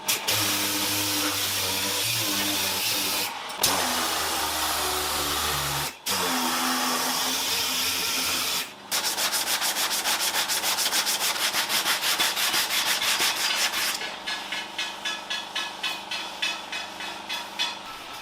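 Sandpaper grinds down body filler putty on the rear bumper of a Toyota AE86, a loud, continuous abrasive rasp that turns into rapid rhythmic back-and-forth strokes near the end.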